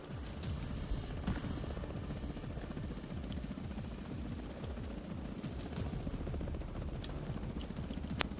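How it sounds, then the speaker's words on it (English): A helicopter arrives in The Division, its rotor thumping in a steady low pulse that holds throughout at moderate distance, with a few faint clicks and game sounds over it. "Helo inbound to your location."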